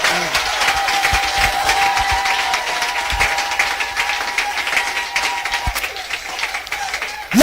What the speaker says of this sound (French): Vous acclamez très faiblement.